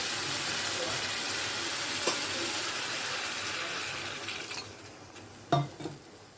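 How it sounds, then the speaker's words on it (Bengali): Water poured into a simmering duck egg curry with potato and cauliflower in a pot makes a steady, close rush of splashing and bubbling. It gradually fades, then a couple of sharp clinks of a utensil against the pot follow. "আবার একটু জল দিয়ে দিচ্ছি"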